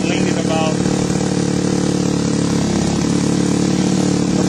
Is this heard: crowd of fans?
no